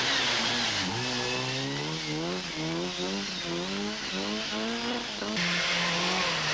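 An Opel Astra Group N rally car on a Belgian rally stage revs and shifts through repeated rising gear changes, loud and close, with tire noise as it drives past.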